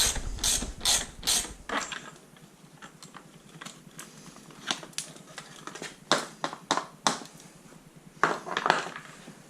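A ratchet clicks rapidly in short bursts while bolts come off a 2019 Polaris Sportsman Highlifter 850 ATV during a KFI winch install. The metallic ratcheting is close and crisp, with pauses between runs.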